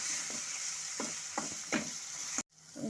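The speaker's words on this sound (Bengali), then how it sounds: "সমস্ত গুঁড়ো মশলার সাথে বাটা মশলার সাথে ভালো মতো করে মিশিয়ে কষে নেব" Ground and paste spices stir-fry in a pan for Bengali doi begun, a constant close sizzle broken by four rhythmic scraping strokes of a spatula, then a sudden brief cutoff before the frying resumes.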